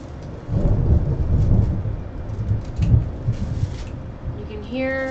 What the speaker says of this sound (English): You can hear the thunderstorm going on around us.